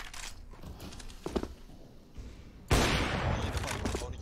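Gunfire in a first-person shooter game, with short sharp shot bursts early on followed by a loud sustained blast or burst of fire near the end, as a player speaks briefly between them.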